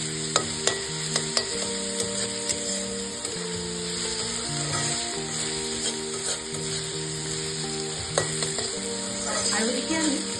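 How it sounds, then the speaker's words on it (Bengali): Chopped onion, garlic and green chili fry in a pan over medium heat, giving a steady close-up sizzle broken by frequent scraping stirs. A faint tonal background runs underneath throughout. "এবার মিডিয়াম আঁচে এটা ভালো করে ভাজতে হবে।"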